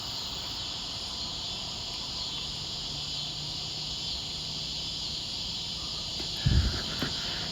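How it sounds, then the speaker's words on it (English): Dense chorus of cicadas in a backyard area, a steady high-pitched shrill buzz filling the background continuously, with a brief soft rustle or thump near the end. "I can't even hear any birds over all the cicadas."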